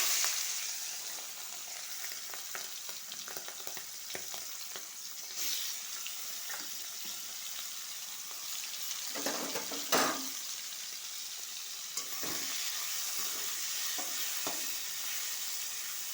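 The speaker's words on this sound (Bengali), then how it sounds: "চিংড়ি মাছগুলো ভেজে নেব।" Salted, turmeric-coated prawns fry in a pan, giving a steady close sizzle with bursts of stirring and scraping throughout and a few louder spatters near the end.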